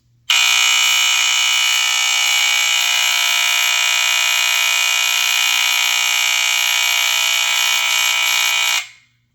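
A Fyrnetics Lifesaver 1200 smoke alarm blares a loud, continuous piercing shriek at close range for about eight seconds before abruptly stopping.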